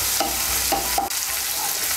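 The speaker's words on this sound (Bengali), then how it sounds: "পেঁয়াজটাকে আমি হালকা একটু ভেজে নেব।" Onion frying lightly in a pan for a Bengali fish and cauliflower curry: a steady, close sizzle with a few soft stirring scrapes of a spoon, no voices.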